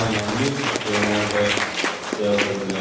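Applause at a reception in a Malankara church in Thiruvanchoor, Kottayam, a short burst of clapping from a gathered crowd with a voice speaking over it.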